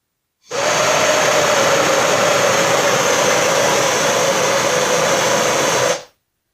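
A torch flame burning steadily, a loud, even hiss and roar that starts abruptly, holds constant for about five and a half seconds, then cuts off cleanly.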